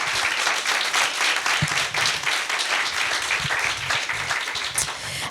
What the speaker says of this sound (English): Can we have a big round of applause for Jean?